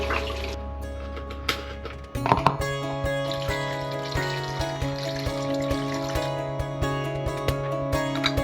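A 50-50 mix of concentrate antifreeze and deionized water poured into a container aboard a catamaran, a steady trickling and filling with a tonal hum and small knocks, fairly close, with no talking.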